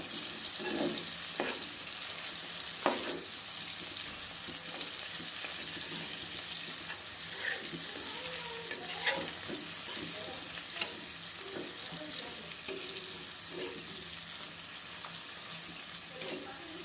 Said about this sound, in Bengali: এক পাশ মোটামুটি ভাজা হয়ে গেছে এখন আমি আরেক পাশ দিয়ে দিই